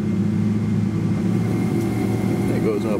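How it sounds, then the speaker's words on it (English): Jet engines on a Qatar Airways Boeing 777 spool up in a steady, loud low drone heard from inside the cabin, with a rising whine layered over the rumble. "Engines are just starting up."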